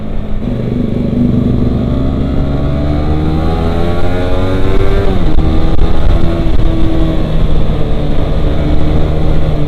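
A Yamaha NMAX scooter accelerates hard and passes close by on the road, its engine note rising and sweeping loudly before settling into a steady drone.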